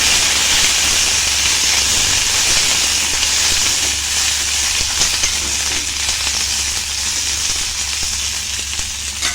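Slit green chillies frying in oil in a pan for a ridge gourd chutney, giving a steady, close, loud broadband sizzle and hiss throughout with a low hum beneath.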